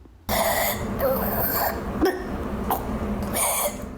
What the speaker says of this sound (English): Some child patients have developed racking coughs.